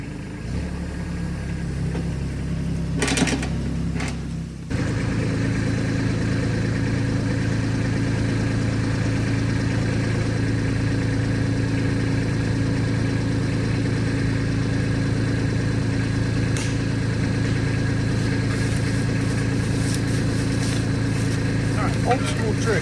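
A tractor engine pulling steel rumbles steadily at close range, starting from a lower idle, then settling into a continuous louder drone with a few brief metallic clanks.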